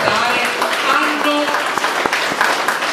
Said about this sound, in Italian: l'applauso va ai nostri artisti